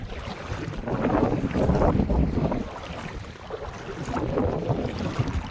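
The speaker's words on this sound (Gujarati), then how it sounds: "પવન છે થોડો ઘણો કોઈ વાંધો નહીં આવે" Strong wind buffets the microphone in gusts while out fishing for shrimp and crabs, a rough low roar that swells and eases with no one speaking.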